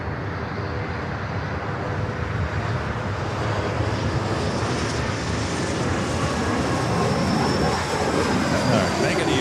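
Airliner taxiing at LAX while making a U-turn, a steady broadband engine roar with a rising whine, continuous and fairly close, with a voice talking faintly underneath.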